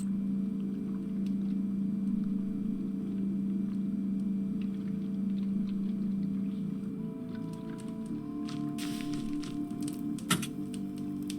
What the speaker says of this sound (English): The red charging light on my phone blinks on, but then the engine splutters and dies.